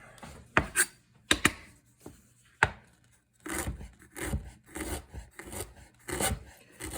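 A knife slices through an ingredient on a cutting board during preparation of a numb and spicy eel pout dish, giving a few sharp chops followed by a run of softer rhythmic cutting strokes, close and alone.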